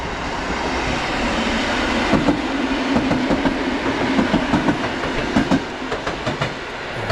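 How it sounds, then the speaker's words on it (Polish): A train rolls past close by, a steady rumble with rhythmic clickety-clack of wheels over rail joints, no voices. "O, pociąg jedzie. Pociąg na żywo."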